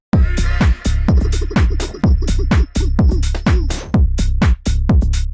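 Tech house drop built from a pitched-down vocal soaked in delay and reverb over punchy drums and bass, with a loud, steady four-on-the-floor kick pumping throughout.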